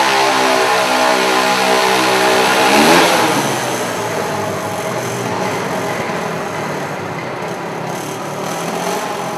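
Motorcycle engine revving hard during a circus motorcycle acrobatics show, a loud sustained roar that swells and then settles into a steady drone, with no voices over it.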